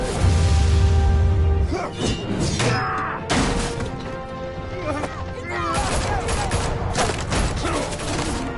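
Rapid bursts of gunfire in an animated Batman action scene, loud and dense, mixed with crashes, whooshes and impacts, with shouting voices over the din.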